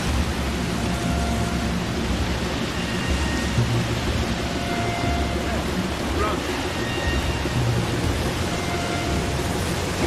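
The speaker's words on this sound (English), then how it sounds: "Man, it looks like a storm's coming through." Thunderstorm in Far Cry 2, a dense steady roar of rain and low rumbling thunder that fills the whole stretch without letting up.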